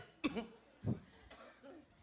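A person on a Filipino variety show coughing: two short, moderately quiet coughs about half a second apart, followed by softer breathy sounds, with no clear speech.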